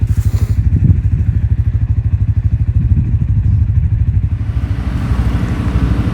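A heavy diesel tractor engine chugs steadily up close while leveling a wet access road, its low rhythmic throb running continuously with occasional clanks and thuds.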